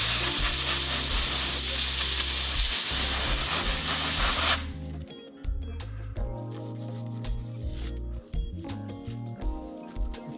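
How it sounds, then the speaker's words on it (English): Compressed air blows paste out of the cracks in a natural-edge wooden bowl, a loud harsh hiss lasting several seconds that cuts off abruptly, followed by quieter workshop handling sounds. "Now to clean the paste out of those cracks, I'm just going to try some compressed air."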